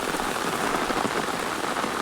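Steady rain falls hard on a cotton field, a dense even patter with no pauses and no voices.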